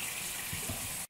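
Tap water runs into a sink during face rinsing, a steady close splashing rush that cuts off abruptly at the end, with no talking.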